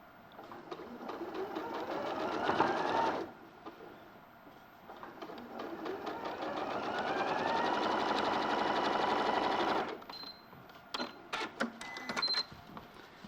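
A sewing machine stitches quilt block seams in two runs of fast, rhythmic needle clatter, each lasting a few seconds, followed by several short clicks and taps.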